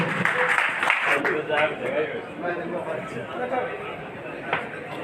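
An audience at a certificate ceremony for RMP and experienced doctors in Narwana applauds, a continuous wash of clapping mixed with crowd chatter and voices throughout.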